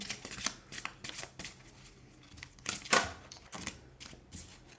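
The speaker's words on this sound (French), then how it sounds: "on va tirer 3 cartes de l'oracle de Marie-Madeleine" Oracle cards being shuffled and drawn by hand, a series of close riffling and flicking bursts with soft slaps in an uneven rhythm, one louder flurry near the end, no talking.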